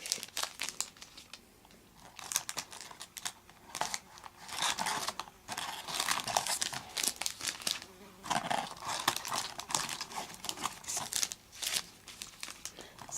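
Tea packets are pulled from crinkly packaging in bursts of close rustling and crumpling, with a few soft taps and short pauses.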